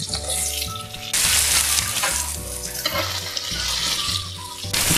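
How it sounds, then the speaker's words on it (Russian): Garlic, carrot and onion frying over high heat for a beaver stew, a steady sizzle and crackle in the pan with stirring bumps and a sudden louder burst partway through, heard close with no talk. "Все мы жарим на довольно сильном огне, не тушим."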